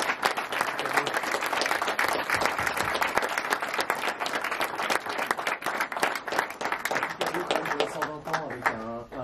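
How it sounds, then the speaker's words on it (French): Conference audience applauding the invited guests, dense sustained clapping filling the room throughout, fading slightly at the end as a voice starts to speak. "Merci à vous de les applaudir."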